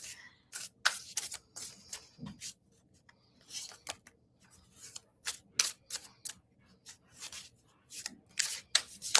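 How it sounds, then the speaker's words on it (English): Tarot cards shuffled by hand in repeated quick riffling bursts with short pauses between them, close and fairly loud, no talking. "I'm going to shuffle one more time."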